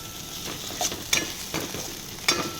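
Okra curry sizzling in a pan with crushed red chili as it is stirred, a steady frying hiss broken by several sharp scrapes of the utensil against the pan.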